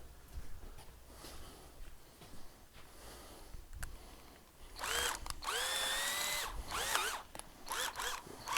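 A power drill with a step (Christmas tree) bit enlarges a hole, heard in short whining bursts that rise in pitch during the second half, close and fairly loud, after quieter rustling. No talking.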